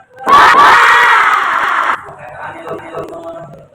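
A group of people, likely a class at an Indonesian school, shout together in one loud, sustained cry lasting about a second and a half, followed by quieter chatter and voices.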